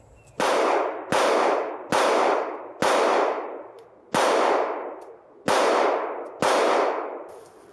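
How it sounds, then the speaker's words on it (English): Pistol shots from an M&P Shield and a Glock 43 fired at a target, seven sharp, loud reports spaced roughly a second apart, each with a long ringing decay. "Now I'm going to fire rapid fire with the M&P shield at the top 9, and then with the Glock 43 at the top 7"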